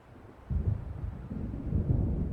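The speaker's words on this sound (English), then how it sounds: "It seems there's a storm coming." In the Alan Wake game, a low rumble of thunder from an approaching storm swells in after a brief quiet and rolls on, deep and sustained, with no talk.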